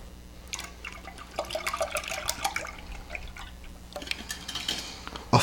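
Milk and heavy cream poured into a medium saucepan, a close, irregular liquid splashing and trickling that swells in the middle and again near the end, with no voices.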